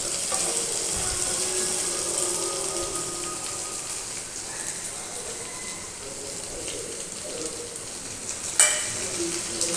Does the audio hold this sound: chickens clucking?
no